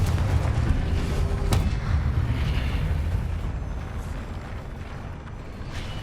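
A Confringo blasting spell explodes in Hogwarts Legacy with a heavy, booming blast and a sharp crack, followed by a long rumbling low-end decay that slowly fades.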